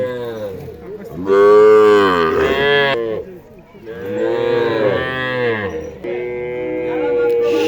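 A nine-month-old calf at a cattle show moos loudly and close by in three long drawn-out calls, with a quiet voice talking in the background.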